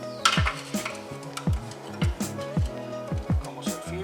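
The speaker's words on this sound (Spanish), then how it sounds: "La llave saca filtro." Metal clanks and scrapes repeat in an uneven rhythm as an oil filter wrench grips and turns the oil filter on a Corsa Classic 1.4 during an oil change, close and moderately loud.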